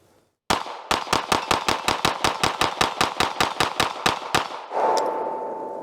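A CZ P-10 C ported pistol fires a rapid string of about twenty sharp, evenly spaced shots at an outdoor range, loud and close, followed by a ringing tone and lingering noise.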